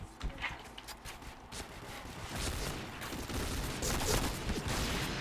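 Faint bursts of M4A1 rifle fire in a video game crackle in quick, uneven volleys, with a few isolated shots between them.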